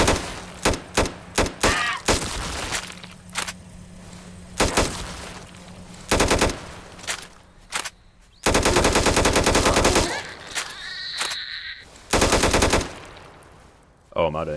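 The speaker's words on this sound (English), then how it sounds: "So that was the M16A1." Bursts of M16A1 automatic rifle fire from the video game Those Who Remain, loud sharp rattling volleys separated by short pauses and single shots, with a few longer sustained strings near the end and no talk over them.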